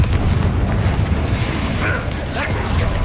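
Hogwarts Legacy's Confringo spell bursts into a dense, rumbling explosion with mechanical rattles and crackling, loud and sustained, filling the whole moment without any clear talk.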